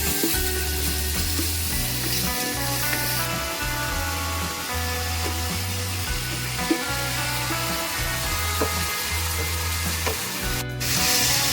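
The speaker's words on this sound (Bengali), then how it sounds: "আদা রসুনের একটু পেস্ট দিয়ে আরেকটু কষিয়ে নেব" Steady sizzling of ginger-garlic paste frying with spices in a pan throughout, with a rhythmic low thumping underneath and occasional stirring scrapes; no talking.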